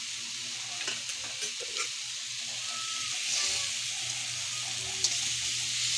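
Tomatoes stirred and frying in a pan, a steady close sizzle with soft scraping stir strokes scattered through, no voices.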